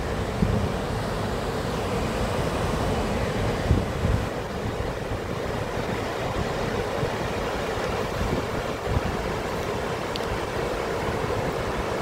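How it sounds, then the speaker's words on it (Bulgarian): Urridafoss, a high-volume waterfall in Iceland, where the water crashes into rocks: a steady, dense roar of rushing water with constant low rumble and wind buffeting the microphone, loud and unbroken throughout. "Вижте как водата си е изкопала легло и със страшна сила се врязва в скалите."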